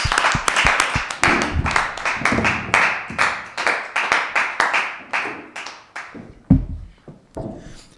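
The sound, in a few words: applause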